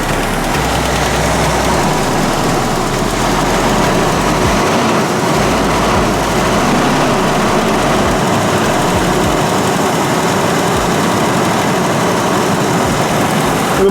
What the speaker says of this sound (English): I think that squealing sound is from the flywheel.